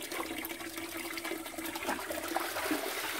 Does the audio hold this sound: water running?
yes